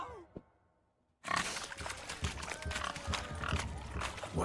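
Pigs grunting and oinking in the video game Witcher 3 during a swineherd pig race, a busy run of loud snorts and grunts with scuffling hooves after a quiet start.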